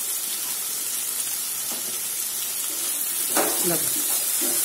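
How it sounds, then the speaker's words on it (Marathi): Chopped potato tipped into a hot pan for an aloo palak sabji with tomatoes, giving a steady close sizzle with a brief clatter and stirring burst near the end, no talking. "त्याच्या आधी त्याच्यामध्ये आपण हा चिरलेला एक बटाटा टाकून घेऊया"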